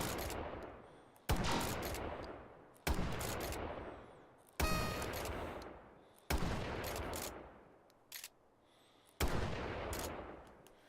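Single gunshots fired at targets in the VR shooter H3VR, sounding as six sharp reports spaced about a second and a half apart, each trailing off into a long reverberant decay, with no talk.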